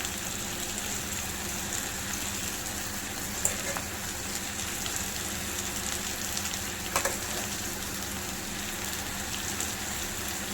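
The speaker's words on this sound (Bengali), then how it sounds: "তো ভালো করে ভাজা হোক সবজিগুলো।" Vegetables for soya chowmein fry in a pan with a steady, continuous close sizzle, broken by a couple of brief utensil taps; no voices.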